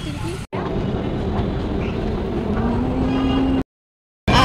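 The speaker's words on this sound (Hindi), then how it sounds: "आ गई हमारी मेट्रो।" A metro train pulling into a station on the Delhi metro, a steady loud rumble and rush with a rising whine as it slows, cut off by a short gap near the end.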